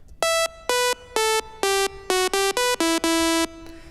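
A basic synth lead built in the Sylenth1 plugin with reverb plays a descending melody of bright, buzzy, evenly spaced notes, with shorter notes toward the end and a short reverb tail, clean and alone.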